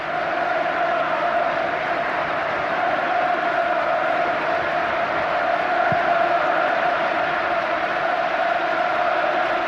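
A 40,000-strong football crowd at Old Trafford roars without pause, a dense, loud and steady wall of noise filling the stadium from start to finish.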